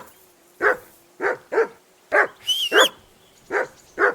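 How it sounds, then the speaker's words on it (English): A dog barks repeatedly in Kingdom Come: Deliverance II, about eight sharp, evenly spaced barks with a brief whine in the middle, loud and close with no voices over it. "That dog of yours is barking like the devil."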